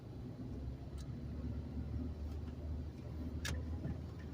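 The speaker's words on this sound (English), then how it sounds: "I downshift into first gear." A manual car's engine drones steadily from inside the cabin as it downshifts into first gear, a low continuous rumble with a few faint ticks and clicks over it; no one talks.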